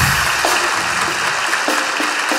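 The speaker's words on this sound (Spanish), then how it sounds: "Un fuerte aplauso para mi causa" Continuous clapping from a live comedy talk-show audience, a sustained wash of hands close and loud throughout the short stretch.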